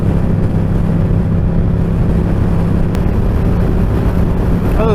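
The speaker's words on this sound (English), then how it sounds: "the cool wind coming through the front of my helmet and hitting me in the face" Wind roars steadily into an open-fronted motorcycle helmet while riding, a loud, continuous broadband rush mixed with engine rumble and no speech.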